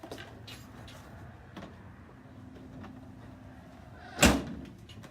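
An RV camper door swings shut with a single sharp, loud thud near the end, after several seconds of quiet background rumble and a few faint knocks.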